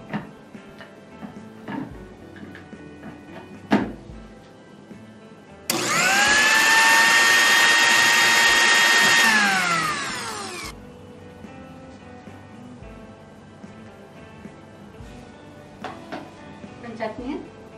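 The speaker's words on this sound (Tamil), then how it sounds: "இப்போ நாங்கள் இந்த சட்னியை அரைக்க போகிறோம்." A mixer grinder grinds coconut chutney in a home kitchen: one loud, steady whirring run of about five seconds with a rising motor whine and then a winding-down tail, with speech and small kitchen clatter before and after.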